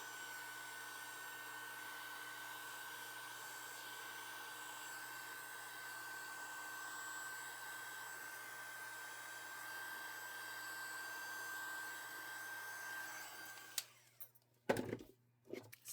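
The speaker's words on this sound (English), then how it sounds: "I'm going to take my heat gun," A heat gun blows over resin in a mold as a steady, moderately loud electric whoosh with a constant motor hum, then cuts out, followed by a few handling clatters.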